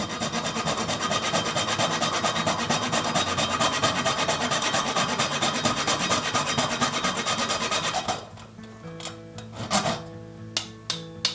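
Whole nutmeg rasped by hand against a grater for pumpkin bread, a steady close scraping that runs continuously for about eight seconds, then breaks into a few scattered taps and short scrapes.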